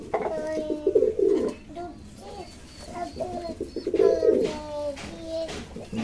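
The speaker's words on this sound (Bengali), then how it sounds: "দুটোই খুব অ্যাক্টিভ পায়রা।" Pigeons, including white American breeds, coo in a loft in loud, close, repeated bursts with pauses between them, and a faint voice is heard in the background.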